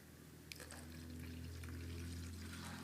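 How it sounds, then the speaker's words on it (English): Water is poured into a homemade play dough mixture of flour and oil, making a soft, steady splashing and trickling that continues without a break. It is quiet and close by. "Also going to add water."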